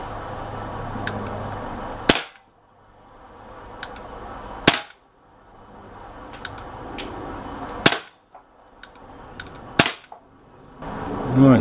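An Umarex Walther PPQ .177 CO2 pellet pistol fires five sharp, loud cracks at uneven intervals, each followed by a brief quiet gap, close to the listener.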